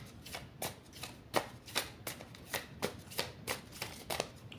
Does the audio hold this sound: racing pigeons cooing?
no